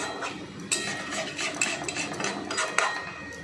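A cooking pot of steamed prawn bhapa is lifted off a kitchen stove, with a few metallic clanks and scrapes of cookware close by in an otherwise quiet room.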